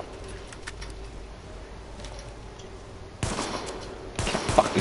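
Gunfire in Tom Clancy's The Division, a dull ambient stretch followed by two loud bursts of shots near the end, fairly close and with no talking over them.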